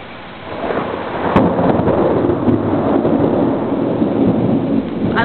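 A thunderstorm roars close by with heavy rain, one sharp thunder crack early, then continuous loud rumbling and downpour with no voices.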